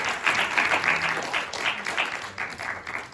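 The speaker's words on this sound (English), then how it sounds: "Can you all applaud for the beautiful afternoon?" An audience at a poetry reading breaks into applause, a dense patter of many hands clapping close by for a few seconds without a break.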